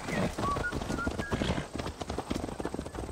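Steady clip-clop of hooves trotting at an even rhythm in the video game Assassin's Creed Valhalla, with a brief whinny and some background game music and ambient sound.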